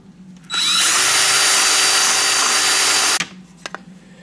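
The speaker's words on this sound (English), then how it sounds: "Now it's time to drill a hole in the joystick cover" A power drill whines loudly for about three seconds as it bores through a hard plastic Apple II joystick cover, stopping abruptly, followed by a few faint clicks.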